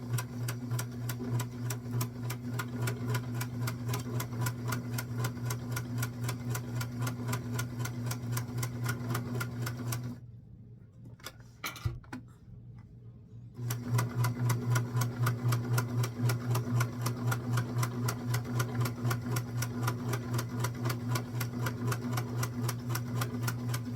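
A sewing machine runs a long, rapid, evenly pulsing straight stitch at its largest stitch length along a doll skirt, stopping briefly midway and then resuming just as loud and steady.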